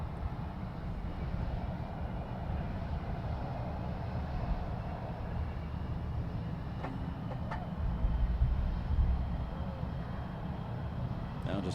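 Steady jet engine roar from an aircraft at the Farnborough International Airshow, a continuous broad rumble swelling slightly toward the end as the plane moves, with a voice speaking briefly underneath.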